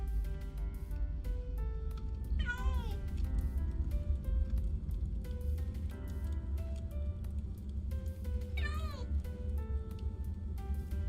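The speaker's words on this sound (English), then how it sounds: "the cat is meowing. It's meowing a lot" A house cat meows twice, spaced several seconds apart, rising over steady background hum and game music with a low rumble throughout.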